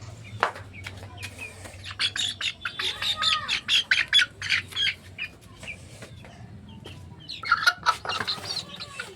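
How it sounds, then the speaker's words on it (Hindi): Chickens cluck and squawk nearby in irregular bursts, with a low hum in the background and quiet gaps between calls. "ये देखिए हमारी मुर्गी।"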